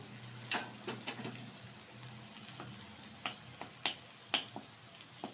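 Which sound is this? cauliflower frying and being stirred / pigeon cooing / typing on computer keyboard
cauliflower frying and being stirred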